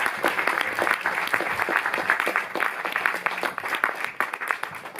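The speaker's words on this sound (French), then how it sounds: "Vous pouvez les applaudir" A cinema audience applauding to welcome the film crew at a Paris screening, a long, steady crackle of many clapping hands filling the room, fairly loud and unbroken, with no speech.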